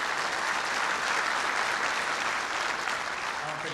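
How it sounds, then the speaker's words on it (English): An audience at a Ranger Hall of Fame ceremony applauds, a dense, sustained wash of clapping from many hands that holds steady throughout. "give a round of applause to Airborne Ranger Training Brigade and 75th Ranger Regiment"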